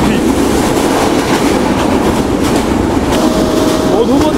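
Madhumati Express, a broad-gauge train with an LHB coach, runs at speed with a loud, steady rumble and rhythmic wheel clatter heard from inside, plus a brief thin squeal near the end.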